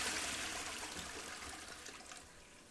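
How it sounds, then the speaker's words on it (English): A toilet flushes in the horror video game Infliction, a soft rushing gush of water that slowly fades as it drains, heard alone with no talking. "flush the toilet."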